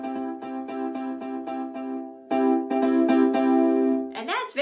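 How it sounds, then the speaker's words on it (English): A major chord on piano rings out with several rhythmic repeated strikes, pauses briefly, then sounds again in a steady pulse, loud and near, ending as a voice begins to talk. "Like if I played a major chord on the piano, it would sound like this."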